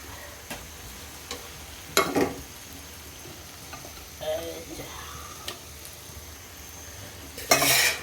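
Chicken masala fries in a pan under a soft, continuous sizzle while a spoon scrapes and clinks against the pan, with a louder clatter near the end.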